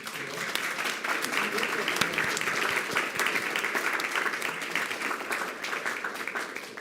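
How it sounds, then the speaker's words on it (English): A room at a school district board meeting claps for honorees, dense even applause at moderate distance with a few sharper individual claps standing out, sustained throughout. "How about a round of applause?"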